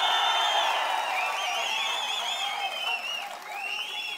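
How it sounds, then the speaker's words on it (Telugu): A crowd applauding at a political rally: sustained, dense clapping from many hands that fades slightly toward the end, with faint cheering mixed in. "గట్టిగా చప్పట్లు కూడా చెప్పండి"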